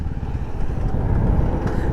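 A Royal Enfield Classic 350 with disc brakes and dual-channel ABS braking hard from 60, its engine a steady low rumble that holds throughout without any tyre skid.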